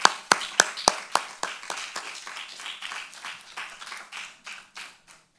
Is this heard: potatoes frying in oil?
no